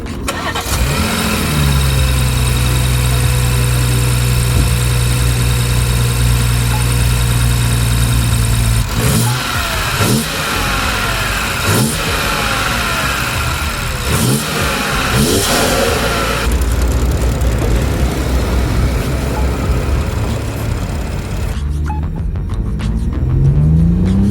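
BMW F30 340i with B58 engine and Agency Power intake, loud and close: steady idle, then a string of sharp revs rising and falling, followed by a longer sustained engine drone that settles back down.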